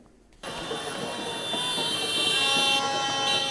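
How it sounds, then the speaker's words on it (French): Vuvuzelas, brass fanfare and motorbike and car horns blare together at an outdoor election campaign rally, a sudden loud wall of sustained tooting that starts abruptly and holds steady, growing slightly louder toward the end. "Vuvuzela, fanfare, klaxon des motos et voitures."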